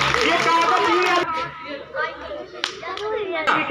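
A school audience of children claps at a National Science Day assembly, a burst of clapping that breaks off into scattered claps amid chatter and a voice.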